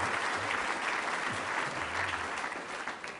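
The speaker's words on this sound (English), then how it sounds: "Let's give Ray a big round of applause." A city audience at a State of the City address gives Ray a big round of applause, thick sustained clapping from many hands filling the room at full strength, fading slightly at the close.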